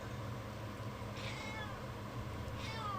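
A pet cat meows twice, each a short rising-and-falling cry, fairly close but soft over a steady low hum of background noise.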